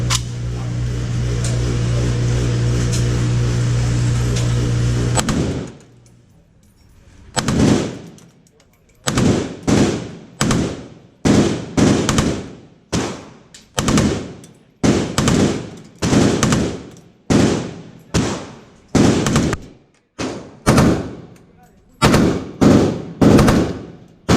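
Gunfire at a Las Vegas shooting range: after a steady loud roar, rapid bursts of automatic fire crack out close and loud, repeating in short strings with brief gaps between them.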